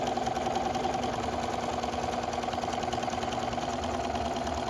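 A sewing machine stitching fabric for a book bag, a steady close hum with a fast, even mechanical chatter that runs without a break, with no talking.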